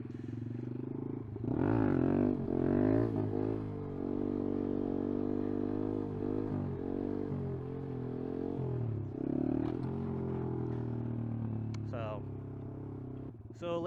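A Honda Grom motorcycle revs and pulls a wheelie, its engine droning and rising in pitch through several throttle surges before dropping back, fairly close, with a voice talking over part of it.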